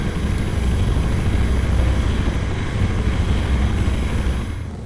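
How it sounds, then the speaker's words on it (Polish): A helicopter in a video game flies with a steady, dense rotor roar, constant and unbroken, loud and alone. "Ale helikopter dalej leci."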